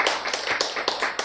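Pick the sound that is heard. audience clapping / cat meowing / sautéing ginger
audience clapping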